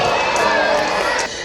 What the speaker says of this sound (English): shout "wake up, girls," and give them a nice big round of applause